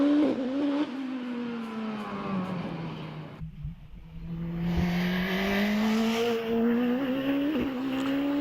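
Force PC 2-litre forced-induction hillclimb race car screaming past at high revs, pitch dropping as it lifts briefly, then climbing again through hard acceleration, loud and close.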